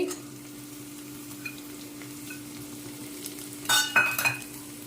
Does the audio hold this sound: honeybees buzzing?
no